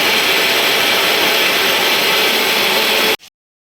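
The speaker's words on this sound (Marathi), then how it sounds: "टमाटो मिक्सरच्या भांड्यात टमाटा, लसूण आणि मिरचीचा पेस्ट करून घेऊया." A mixer grinder whirs loudly and steadily at close range while blending tomato, garlic and chilli into a paste, then stops abruptly after about three seconds.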